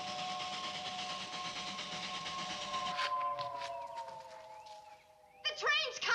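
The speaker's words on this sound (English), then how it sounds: "The train's coming." An arriving train sounds a long, chord-like whistle that holds steady and then slides lower, followed by hissing and clattering bursts near the end.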